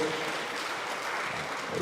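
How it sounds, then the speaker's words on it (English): Faint, steady applause from a studio or event audience for a panel of speakers, a soft wash of clapping heard briefly and at some distance. "How about another round of applause for our panelists?"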